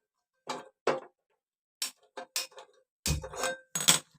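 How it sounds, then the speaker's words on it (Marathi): A gas stove igniter clicks as the burner is turned on to heat water in a home kitchen: a handful of sharp, separate ticks in an irregular rhythm with brief quiet gaps, close and fairly clear. "गॅस चालू करते"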